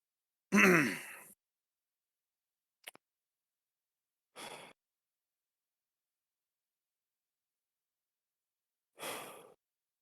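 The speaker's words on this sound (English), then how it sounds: "We can hear the heavy breathing." Heavy, close breathing into a microphone comes as four separate bursts in near silence: a long sighing exhale, a brief sniff, then two more breathy huffs spaced several seconds apart.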